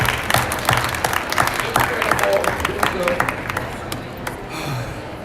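Audience applause at a makeup artist competition in Los Angeles, a dense steady clapping from a crowd that carries on loud throughout and eases slightly toward the end.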